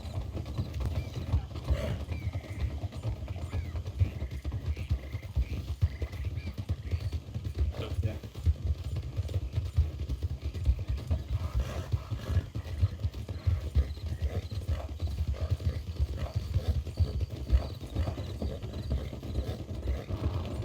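Steady clip-clop of horse hooves in a roleplay video game, a continuous fast rhythmic clatter close up and fairly loud throughout, with an occasional whinny and no talk.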